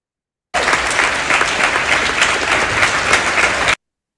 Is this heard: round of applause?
yes